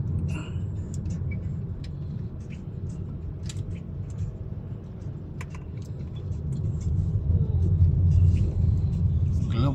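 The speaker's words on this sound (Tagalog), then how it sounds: "yung palabas ng EDSA yan, mga kasalubong namin na heavy traffic" Steady low rumble of heavy road traffic on EDSA near Taguig's Global City, with cars passing continuously and swelling louder toward the end, heard from inside a moving vehicle.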